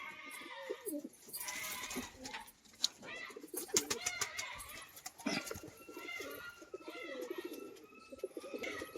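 Pigeons coo softly nearby, mixed with sharp clattering and flapping bursts, over a steady outdoor background.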